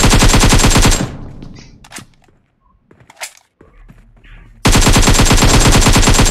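Heavy automatic gunfire from the mobile battle-royale shooter PUBG Mobile, loud and continuous. It cuts out to near silence with a few scattered sharp reports and clicks, then a second loud sustained burst erupts.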